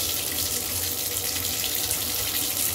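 Water drains quickly from an unclogged bathtub drain with a turn-to-open stopper, a loud, steady, close rushing and gurgling flow with no talking.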